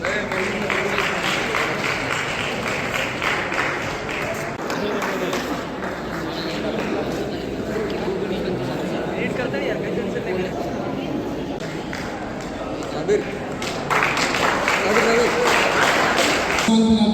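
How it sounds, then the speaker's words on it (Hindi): Audience applause at a Home Guard honour ceremony in the Nagar Bhavan hall, Giridih, a steady patter of clapping running beneath continuous talk and swelling near the end. "जोरदार ताली बजाएं"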